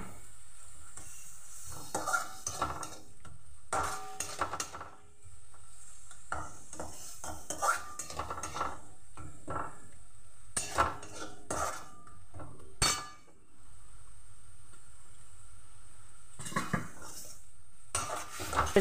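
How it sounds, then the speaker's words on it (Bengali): Pointed gourd being stir-fried with ground lentil paste in a pan: a metal spoon scrapes and clatters against the pan in repeated bursts, with a soft sizzle running underneath and brief quieter pauses between the stirring strokes. "পেস্টটা দিয়ে বেশ খানিকক্ষণ সময় ধরে এটাকে ভালো করে কষিয়ে নিতে হবে"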